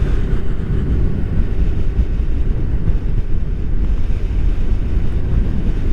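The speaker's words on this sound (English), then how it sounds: "Oh, it's windy." Strong wind buffets the microphone on a motorcycle ride, a Honda NC750XA crossing a marsh; a loud, steady low roar fills the whole stretch with no speech.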